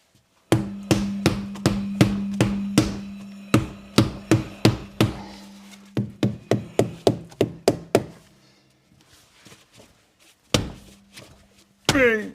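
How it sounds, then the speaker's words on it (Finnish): Rubber mallet blows land during a tyre change in a garage, delivering two fast runs of sharp, ringing thuds spaced about every quarter second before a quiet stretch with faint handling noises and a final knock. "Tässä vähän kumivasaraamista."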